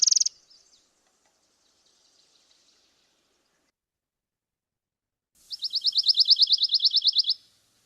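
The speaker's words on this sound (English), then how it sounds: "So let's go to pine warbler." A pine warbler sings a dry, even trill of about fifteen rapid notes, clear and near, after a brief chirp at the start and a long quiet gap.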